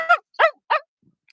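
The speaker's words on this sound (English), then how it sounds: "the wee doggy wants to go for a swim" Small dog whining eagerly to go for a swim at a park, three short high yelps in quick succession, close and clear.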